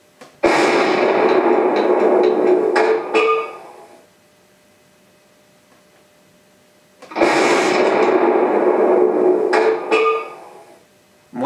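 A radio-controlled Panther tank model's electronic sound unit plays its cannon firing effect twice, each a loud, close blast about three seconds long that ends with a clink of the spent shell casing dropping inside the turret, separated by silence.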